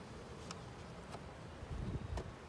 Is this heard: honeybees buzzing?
yes